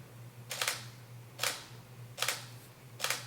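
Camera shutter firing while photographing a condo room: four crisp mechanical clicks, each a quick double snap, spaced about three-quarters of a second apart, close and clear over a low steady hum.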